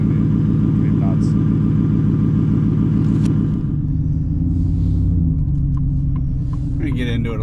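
A 2025 Ford F150 fitted with an SPD Y-pipe and Speed Engineering cat-back exhaust rumbles loudly and steadily at close range, the deep drone holding throughout while people talk over it.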